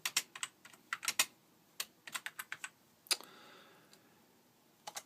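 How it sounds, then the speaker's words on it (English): Bursts of quick keystrokes on a computer keyboard while filling out an FAA 8610-2 form, close and crisp, arriving in short clusters separated by brief pauses. "you type the words"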